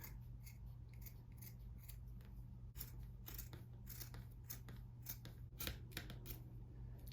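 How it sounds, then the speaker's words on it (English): Scissors snipping through the fabric hem of a top, a quick series of crisp closed-blade cuts and crunches close by, with no voices. "now I'm just gonna go ahead and cut the hem off the bottom"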